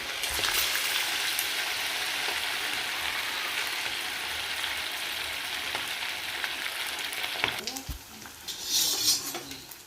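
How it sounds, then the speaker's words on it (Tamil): Marinated fish frying in hot oil, a loud, steady close sizzle and crackle throughout, with a few clinks of a utensil near the end. "இப்போ ஃபிஷ்ஷை ஃப்ரை பண்ணிடலாம்"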